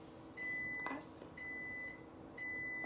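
A microwave oven beeping three times, evenly spaced about a second apart, each tone held briefly over a low background hum.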